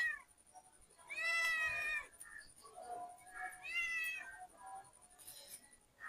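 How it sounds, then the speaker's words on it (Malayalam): A pet cat meows near the ground while playing between someone's legs beside a backyard fishing pond, giving a few drawn-out, clear meows with short pauses between them and no talk. "അതിനിടയിൽ പൂച്ച ഇവിടെ കാലിൻ്റെ ഇടയിൽ കിടന്ന് കളിക്കുന്നുണ്ട്"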